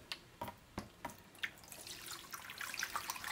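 Water pours into a tray used for wetting paper before stretching it, starting as a few separate drips and splashes, then building into a steady, close trickling pour, with no voices.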